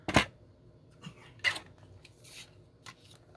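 Vellum paper for a journal is cut in a few sharp, crisp snips, close and distinct, separated by quiet pauses and softer rustling in between.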